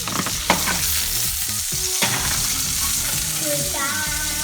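Chicken bacon wraps frying and sizzling in a pan, with a steady loud sizzle, a thump as a piece is flipped over, and stirring scrapes through the rest.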